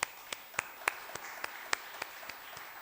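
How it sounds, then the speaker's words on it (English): An audience at the 25th IAJBS World Forum applauding a choir, a short spell of scattered, fairly quiet clapping with distinct individual claps in an uneven rhythm. "Shall we give a big round of applause to our choir, please?"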